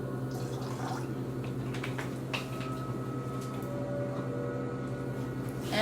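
Kango water poured into a bath container for a white bath, making a steady, close trickling and splashing that runs without a break.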